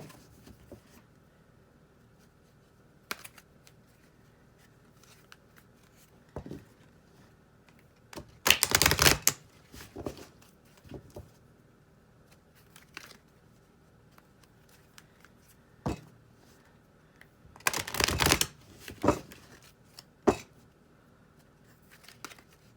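Tarot cards being shuffled and drawn: two short, loud riffling bursts stand out against a quiet room, with scattered soft taps and card handling between them.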